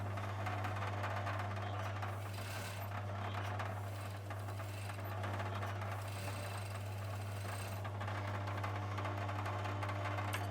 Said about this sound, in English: I show you how to overlock it separately.